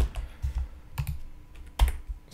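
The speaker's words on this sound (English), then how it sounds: "So typing, pressing enter" Typing on a computer keyboard during a Linux terminal demo, with a run of soft scattered keystrokes and a sharper, louder key press near the end like the enter key, close up and alone.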